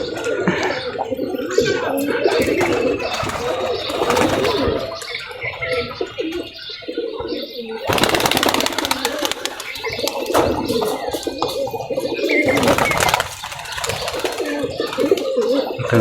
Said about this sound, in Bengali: মাদিটা কবুতর দেখায় আপনাদেরকে দেখেন কবুতর বাজি দেখায়